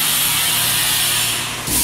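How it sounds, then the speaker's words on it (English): Steady abrasive hiss of sanding a skim-coated wall during house construction in the Philippines, continuous and fairly loud throughout, easing slightly near the end with no talk. "In Sabrina's room, Mr. Willie, still sanding ahead of what I believe will be another skim coat layer."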